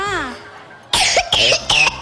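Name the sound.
child coughing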